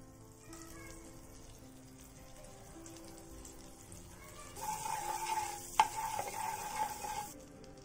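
Butter sizzling in a pan, a low background hiss that swells into a louder, close frying sizzle in the second half, with light stirring clatter.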